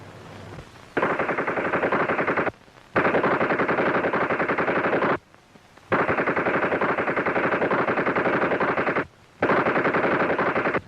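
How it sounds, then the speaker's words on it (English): Machine gun practice at a Foreign Legion post in a 1936 film, with long sustained bursts of rapid automatic fire, loud and steady, broken by three short pauses, with no talking. "What's all the shooting about? Machine gun practice."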